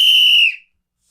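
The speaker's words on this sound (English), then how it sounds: "It's a whistle." A single shrill whistle blown hard and steady for about half a second, then cut off abruptly into silence, close and loud with no talking.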